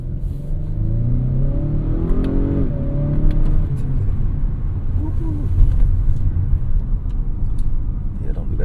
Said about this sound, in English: Man, that was a long time to downshift after I hit the pedal